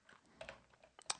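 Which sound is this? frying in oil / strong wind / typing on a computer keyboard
typing on a computer keyboard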